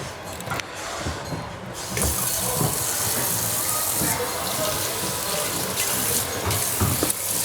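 Water gushing from a tap and splashing over dishes during washing up in a farm kitchen, a steady loud rush after a brief quieter start, with occasional clinks and knocks.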